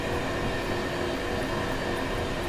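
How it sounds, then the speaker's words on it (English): A heavy aggregates freight train rolls past in Train Sim World 6 on the Merehead Quarry to Colnbrook route, a steady loud rumbling roar of wagons on track with continuous wheel noise and no talk. "These heavy freight trains must put some serious strain on the tracks."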